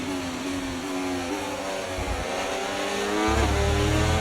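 F1 car engine in the racing game F1 24 howling as it accelerates, pitch climbing in steps through gear changes with a rev-limited dip, loud and steady, no speech.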